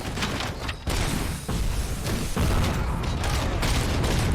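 Gunfire from the video game RoboCop: Rogue City: loud, dense, unbroken bursts of shots and booms that fill the whole stretch, with brief dips between volleys.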